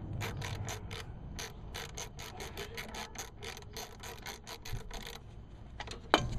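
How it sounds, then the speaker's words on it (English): A ratchet working a bolt on a car starter motor, heard as a close, steady run of rapid back-and-forth ratcheting clicks with a sharp metallic snap near the end as the bolt breaks free. "I just broke that bolt free."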